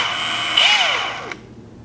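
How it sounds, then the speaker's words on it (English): A Milwaukee 2905 full-size cordless drill whirs steadily at close range, its motor pitch rising then falling as it spins briefly before cutting off, with no voices. "Their premium full-size drill is the 2905, and it does have a little more weight to it"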